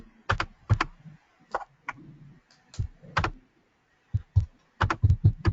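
Computer keyboard typing in short bursts of sharp clicks, close and distinct, with brief pauses between groups of keystrokes and no talking over it.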